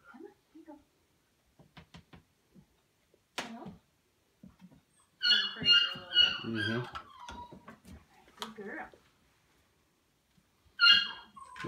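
A dog shut in a crate during training lets out short whining, yelping bursts, some clustered and some isolated, close by, with a person's voice speaking in between.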